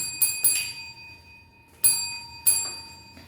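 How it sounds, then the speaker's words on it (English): A small bell rings four times in two pairs of bright, ringing strikes, with a pause between pairs and each tone decaying briefly, loud and close with no talk. "We about to bring the bell ringer to you."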